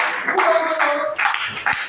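A church congregation at a revival service claps together in praise, a dense run of hand claps with sharper peaks, fairly loud and close, with a held sung or voiced tone underneath.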